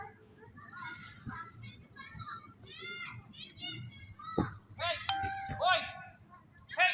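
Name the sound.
children playing at a playground with a noisy football coach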